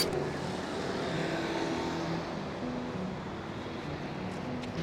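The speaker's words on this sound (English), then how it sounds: "Oh, hang on, there's a car." A car passes on a London street, a fairly faint broad road rumble that swells and fades over a few seconds against general city background.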